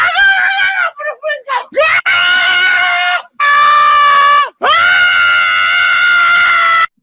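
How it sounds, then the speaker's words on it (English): A person screams loudly in long, strained wails during a heated public confrontation where police are being called, with short shouted bursts at first, then sustained high cries broken by brief pauses, while others talk. "Sorry for the screaming warning, but this is literally all of last night."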